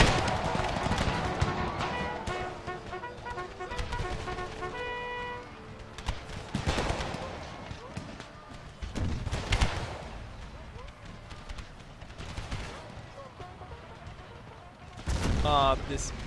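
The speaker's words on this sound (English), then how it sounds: "This unit is moving through everything. And both sides are firing at them." Musket volleys in an American Civil War video game crackle in repeated ragged bursts of massed gunfire, some louder and nearer than others, with voices in the background.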